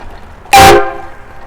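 A single loud train-style air horn blast fitted to a stroller in a prank, sharp and near, lasting about a quarter second with a harmonic blare that fades off.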